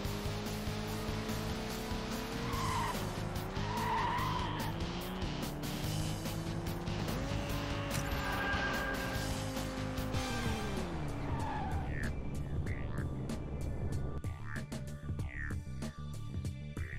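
A car in the Hot Wheels World Race video game skids under the handbrake, a sustained tire squeal rising and bending over a loud engine drone, then fading as the car straightens out.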